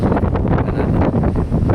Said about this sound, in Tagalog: So lakas-lakas yung hangin.